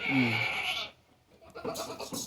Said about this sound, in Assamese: এতিয়া এটা এটা কৰি ছাগলীখিনি দেখাওঁ ভিউৱাৰবোৰক